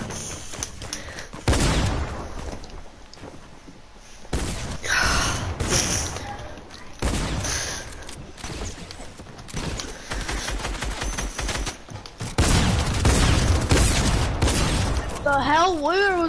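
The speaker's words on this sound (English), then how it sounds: "I was shooting" Repeated bursts of rapid video game gunfire come loud and close, separated by short lulls and thuds, with a person talking and gasping over the shooting.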